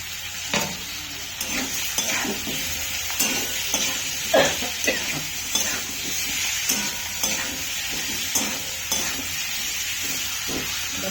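Chopped tomato sizzles in hot oil in a pan while a utensil scrapes and stirs it in regular strokes, steady frying hiss underneath, no talk.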